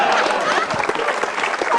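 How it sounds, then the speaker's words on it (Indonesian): Audience applause for a stand-up comedian at a comedy show, a dense, steady burst of clapping from a live crowd filling the room at close range throughout. "Tepuk tangan untuk Semi Ratus Limboy."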